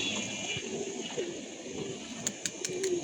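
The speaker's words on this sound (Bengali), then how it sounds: "কবুতরগুলো বামে কিছু বসা এখানে টাপটুপ টাপটুপ করতেছে" Pigeons coo in a home loft, several soft low coos rising and falling over a steady hiss of the room, with a few sharp clicks and rustles near the end.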